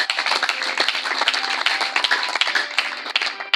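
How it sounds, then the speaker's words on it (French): A church congregation claps for the Lord during a French-language sermon, a dense, loud burst of many hands clapping unevenly and continuously, with no voices over it. "applaudissez pour le Seigneur"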